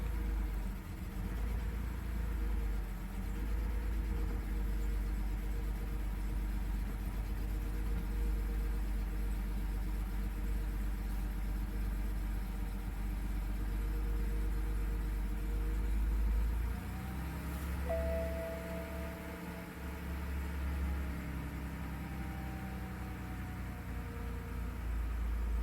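A car with a suspected crankshaft sensor problem idles steadily as it warms up, a close, continuous low rumble with a brief shift in tone partway through.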